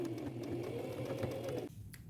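A sewing machine stitches a patch onto the back of old jeans, a steady close motor whir running for over a second and a half before stopping abruptly.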